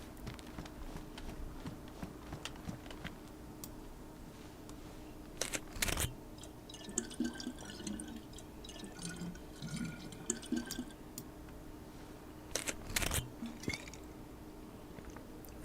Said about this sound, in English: We're going to drink a couple liters of water here